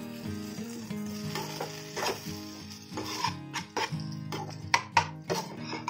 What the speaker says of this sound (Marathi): त्याला व्यवस्थित मिक्स करायचं आहे.